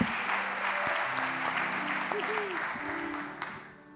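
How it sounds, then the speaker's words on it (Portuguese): Church congregation applauding together at a Pentecostal-style worship service, steady broadband clapping sustained throughout and fading slightly toward the end, with faint tonal background music underneath. "Então dê um aplauso ao Senhor Jesus mais uma vez."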